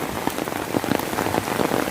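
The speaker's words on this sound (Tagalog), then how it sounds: "Sana tumigil na yung ulan." Heavy rain pours steadily during a flood, a dense, loud and continuous patter of drops striking surfaces close by, with no voices over it.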